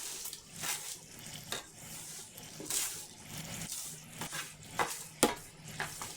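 A wet finger touches a warm cooking surface during pancake, egg and bacon prep, giving brief faint sizzles and hisses among soft scraping and clinking of pans and utensils in a quiet kitchen.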